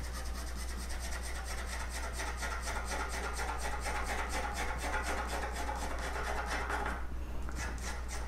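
A colored pencil shades broad areas on paper in long strokes of changing direction, producing soft, close, rapid scratchy rubbing that repeats steadily with a short pause near the end.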